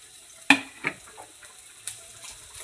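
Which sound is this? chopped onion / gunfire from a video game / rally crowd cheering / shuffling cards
chopped onion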